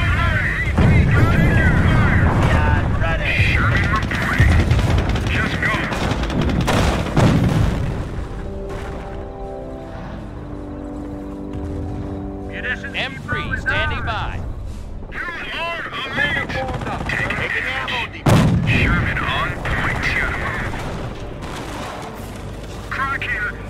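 Battle in Company of Heroes: heavy gunfire and booming explosions in loud bursts, a quieter stretch with a droning vehicle engine, then more blasts; radio-style unit voices speak over the fighting.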